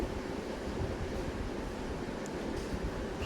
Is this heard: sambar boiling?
yes